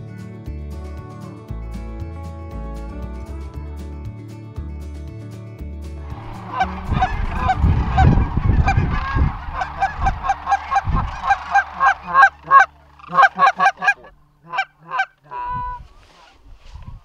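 Canada geese honk repeatedly during a crane hunt over goose windsocks in Saskatchewan, the calls starting as a burst of overlapping honks and thinning into sharp, separate honks near the end, loud and fairly close with no talk.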